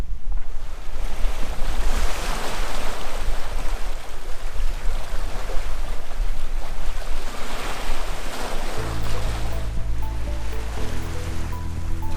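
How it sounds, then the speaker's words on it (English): A sailboat moves across a flat sea with a 10 to 12 knot wind on the beam, its hull rushing through the water under constant loud wind buffeting the microphone. A low steady hum joins in near the end. "We are sailing along in almost ideal conditions here"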